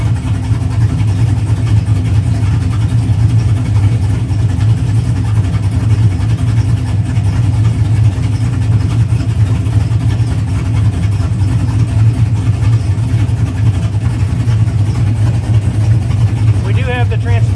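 A Pontiac GTO engine idles steadily during tuning, a low continuous rumble that holds even and close for the whole stretch with no revving, and a faint brief rattle near the end.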